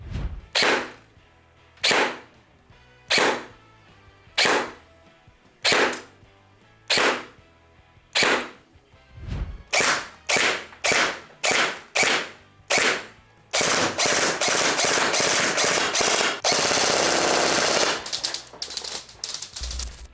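A G&G M4 GC16 Predator airsoft rifle firing sharp single shots at a steady pace, then a quicker run of shots, then a long loud continuous burst, close and loud.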